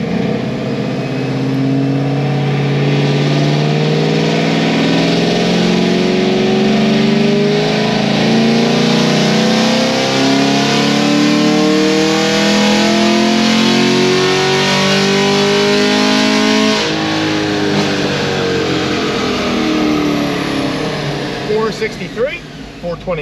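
A car fitted with an aftermarket cam and headers revs hard on a dyno, a loud, sustained engine roar climbing steadily through the gears for over twenty seconds before easing off at the end.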